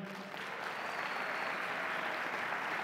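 An audience bursts into sustained applause at a film award ceremony, a steady, even clapping that holds at the same level throughout.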